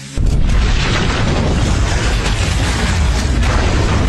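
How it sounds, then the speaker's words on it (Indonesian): A loud, sustained explosive boom from a thrown bag of bombs, a dense roaring blast that starts suddenly and rumbles on without letting up. "Ledakan yang sangat keras memusnahkan tentara bayaran yang ada di luar pintu"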